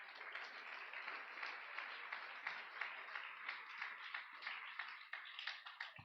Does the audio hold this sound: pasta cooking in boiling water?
no